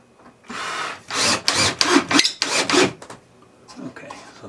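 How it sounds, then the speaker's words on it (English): Power driver sinking a drywall screw into an aluminum framing strip inside a vintage camper ceiling, several bursts of whirring and grinding over about three seconds, close and fairly loud, then a quieter pause. "And put the drywall screw in."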